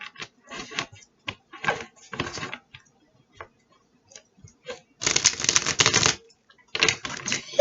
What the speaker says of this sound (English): I'm going to really shuffle these cards